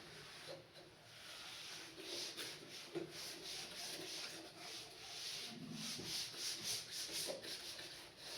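A surface is rubbed by hand during a school science lesson on metals and non-metals, giving a steady, scratchy, sanding-like friction that continues for about eight seconds with short repeated strokes and no talking.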